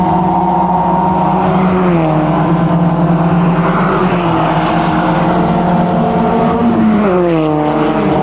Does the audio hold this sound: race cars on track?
yes